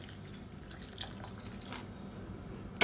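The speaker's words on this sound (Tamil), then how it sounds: "காய்கறி வேகிற அளவுக்கு தண்ணி சேர்த்துக்கலாம்." Water poured into a pot of green turkey berry sambar in a home kitchen: a steady, soft splashing and trickling stream, close and fairly quiet, ending with a brief louder splash, with no talking.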